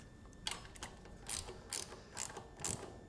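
A ratchet snugs bolts on a cheap Champion generator during a natural gas conversion, giving several short bursts of clicking, fairly close and moderately quiet, with pauses between strokes.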